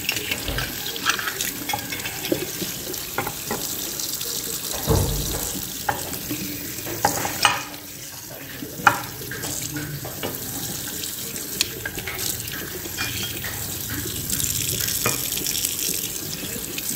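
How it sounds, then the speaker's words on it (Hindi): Silver jewellery rinsed under a running tap, a steady rush of water with faint clinks and splashes as the pieces are washed, continuous and close throughout. "पानी में यहीं अच्छे से धो लेंगे।"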